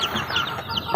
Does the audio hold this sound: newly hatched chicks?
yes